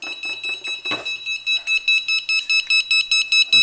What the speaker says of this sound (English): An urgent beeping sound.